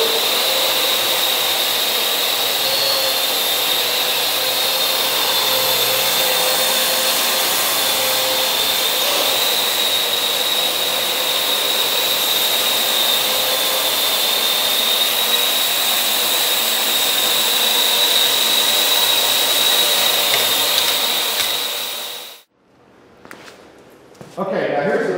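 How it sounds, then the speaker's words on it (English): A Parrot AR.Drone quadcopter hovers nearby with a steady high-pitched whirring whine from its rotors that holds for about twenty seconds, then cuts off abruptly. "And there you go. The drone is flying."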